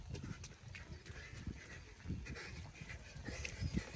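A dog pants and shuffles close by, quiet breathy sounds with scattered soft thumps, faint overall.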